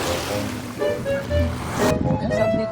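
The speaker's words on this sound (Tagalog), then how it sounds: "Dagat, Brad, no?" Sea waves washing on a shore, a broad steady rush with a gentle swell, heard near and fairly loud, with wind noise and some faint voices mixed in before it cuts off.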